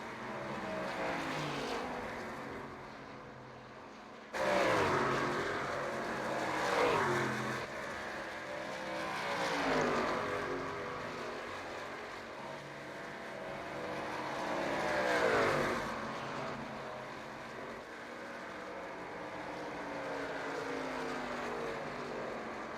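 Race truck engines in an iRacing truck series race at Charlotte, a steady drone of engines with several rising and falling passes as trucks sweep by, moderately loud and continuous.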